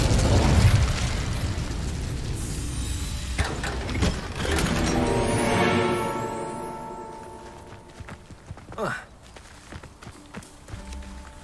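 Incendio fire spell cast in the Hogwarts Legacy video game: a loud, roaring whoosh of flame with explosive bursts and mechanical clattering, swelling then trailing off into scattered crackles and thuds.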